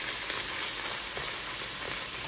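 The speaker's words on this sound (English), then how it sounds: "So we're going to sizzle it in a pan." Ground meat sizzling in a frying pan, a dense continuous crackling hiss at close range with no voices.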